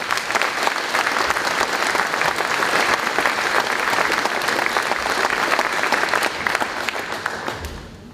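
An audience at a 2022 high school graduation ceremony applauds a retiring staff member with loud, dense, sustained clapping that tapers off near the end.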